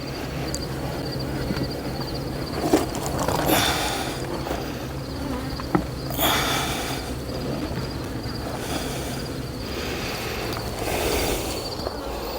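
Steady buzzing of many honeybees close by at their hive, a dense insect hum lasting throughout with a few brief knocks and rustles.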